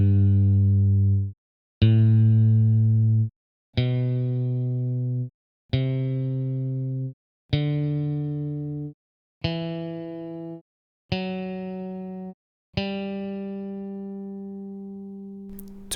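A left-handed guitar plays a complete scale as eight separate plucked notes rising in pitch, each ringing clearly for about a second and a half before the next, heard alone with no talking.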